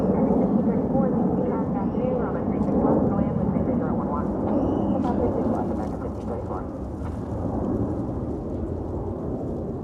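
An airplane passes at DFW airport as a loud, broad, continuous roar that fades slightly toward the end, with a person talking over it.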